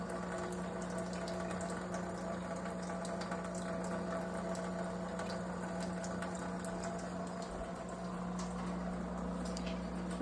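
A Mahugde countertop dishwasher's draining pump hums with a steady low mechanical drone while water gurgles and trickles, continuous and fairly quiet with no voices.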